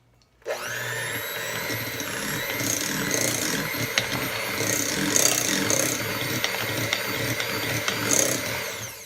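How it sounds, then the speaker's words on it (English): An electric mixer whirs on low speed through cheesecake batter made with chevre, giving a steady motor hum with a scraping, churning texture and small swells in level. No one speaks. "Now we're gonna mix the Chevre on low speed."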